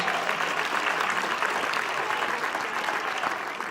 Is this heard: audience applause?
yes